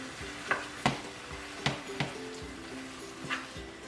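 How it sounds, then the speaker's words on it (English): Tomatoes fry over high heat in a pan for a Nigerian egg sauce, giving a steady sizzle broken by a few sharp scrapes and clacks of stirring, close and fairly loud with no voices. "remember that the heat is on high, so you want to keep it high because you want the tomatoes to be really, really"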